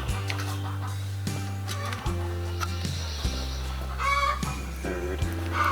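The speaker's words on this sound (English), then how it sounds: "Chickens." Chickens cluck in short, scattered bursts over a steady low hum at a building site, moderately near and not very loud.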